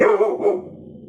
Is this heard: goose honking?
no